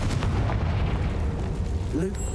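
Confringo blasting spell going off in the game Hogwarts Legacy, a dense, loud rumbling blast that rolls on without pause, with a brief voice surfacing near the end.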